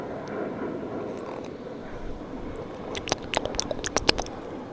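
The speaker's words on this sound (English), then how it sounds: "Whoa, the airplane." An airplane passes overhead outdoors as a broad, steady engine roar, with several sharp clicking or tapping noises near the end.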